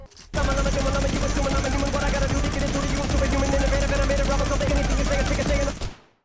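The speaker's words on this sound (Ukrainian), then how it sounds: "Вибиваючи мініган і стріляючи з нього, ваша голова сама починає качати під біт пісні «Rap God»." Minigun firing in Fortnite, one continuous rapid burst of dense, rattling shots for about five and a half seconds, loud and close, stopping abruptly.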